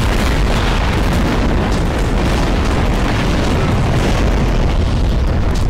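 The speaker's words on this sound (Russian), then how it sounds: "Еще будет пару взрывов. Там вроде 6 взрывов должно быть." Continuous heavy booming from explosions in Garry's Mod, a loud, dense, rumbling wash of blasts that overlaps without a break for the whole stretch.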